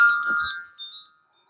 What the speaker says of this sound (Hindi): फोन हमारे भैया का आ गया